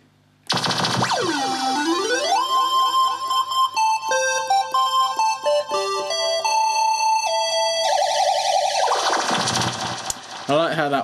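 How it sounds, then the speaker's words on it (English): A Korg Kaossilator Pro synthesizer's electronic tones, including a sine wave tone that sweeps and wobbles in pitch, then shifts into steady beeping notes before a noisy fade. "I think that's a standard sine wave."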